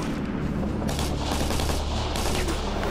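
Gunfire in the video game Operation Flashpoint: Red River, a dense loud burst of rapid shots and booming reports that runs on without pause, no talking.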